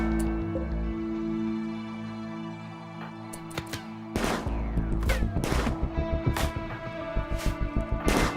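Gunfire in Rimworld with a 40k-themed setting, starting with a sustained drone of combat noise, then a string of loud, closely spaced shots that repeat in a steady, rapid rhythm toward the end.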